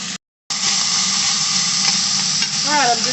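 Beef browns in a pan and is stirred and broken up, producing a loud continuous sizzle and hiss with occasional scraping, after a brief silent gap at the start.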